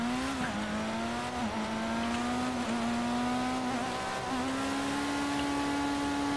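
A Pfister 811 supercar in GTA Online drives with a steady, droning engine note that holds nearly constant, dipping briefly several times as it brakes and shifts, heard alone without talk.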